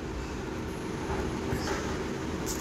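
A Mangalore–Goa MEMU passenger train runs along with a steady low rumble and clatter heard from inside, with a faint high whine and a few brief hisses layered over the moderate, even noise.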